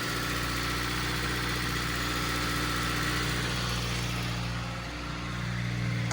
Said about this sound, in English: Sounds like a 2ZZ to me.